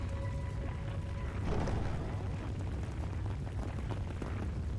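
A large bomb detonates in Trails Through Daybreak, a deep rumbling blast that swells briefly then settles into a sustained low roar and crackle, loud and continuous.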